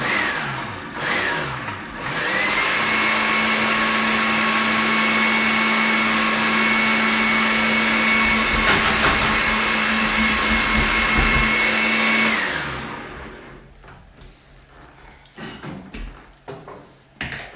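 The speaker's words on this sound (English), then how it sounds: "If your blender is being annoying like mine is," A blender motor whirs loudly and steadily for about ten seconds, then winds down, leaving quieter clicks and shuffling, in a kitchen making risotto and Moroccan meatballs.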